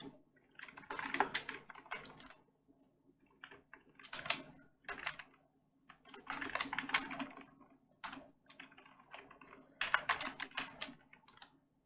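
Keys clatter on a computer keyboard while C code is being written, quick bursts of typing broken by short pauses, close and fairly quiet with no talking.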